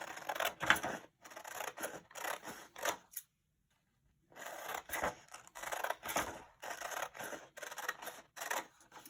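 Scissors cut strips of orange paper in a series of quick, close crisp snips and rustles, with a short pause partway through before the cutting resumes.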